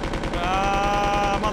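A submachine gun fires in rapid automatic bursts in the video game Resident Evil 2, with loud, dense, continuous gunfire and a ringing metallic tail.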